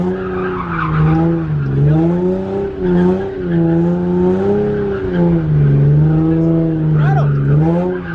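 A drift car held at its rev limiter, the engine note bouncing in steady harmonic bands while tires squeal through a slide, loud and close for the whole stretch, with voices talking over it.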